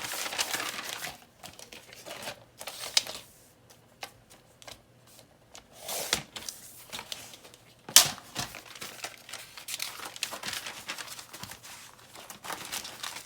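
Journal paper being trimmed with a cutter for a soft-spine gold pleather journal, heard as soft, close crinkling and rustling paper handling with a few sharper slicing snaps, irregular and quiet, without speech.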